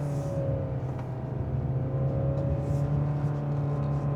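A Wuling Darion PHEV climbs a steep incline under acceleration, its steady motor whir and road rumble holding loud and close throughout with no break.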